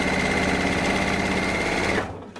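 A sewing machine stitches a dress in a steady, fast whir that runs close and continuous, then stops abruptly near the end.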